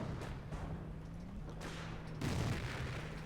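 Firestorm rocket artillery barrage in Company of Heroes, a steady rumbling roar of rockets with repeated dull booms and a louder impact burst toward the end.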